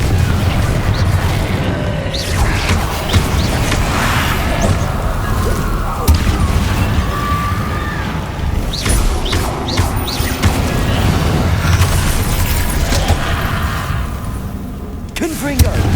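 Repeated Confringo blasting-curse explosions in the Hogwarts Legacy video game, booming thuds and crashes over a continuous loud rumble of combat, with a voice speaking briefly among the blasts.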